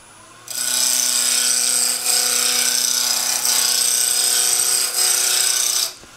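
A woodturning tool cuts a finial on a spinning lathe, giving a steady, loud scraping whir with tonal hum that runs for several seconds, dipping briefly twice, then stops.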